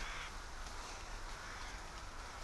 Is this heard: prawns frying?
no